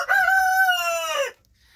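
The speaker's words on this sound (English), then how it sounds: "These are Buff Orpington roosters, and they were given to us for free." Buff Orpington rooster gives one loud, close, drawn-out crow lasting over a second, then falls quiet.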